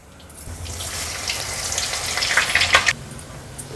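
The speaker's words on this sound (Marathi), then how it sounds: "आता उरलेला फणस देखील मी असाच फ्राय करून घेते।" Raw jackfruit pieces fry in a little oil, giving a close, steady sizzle that builds after a quiet start, with brief spatters near the end before it settles.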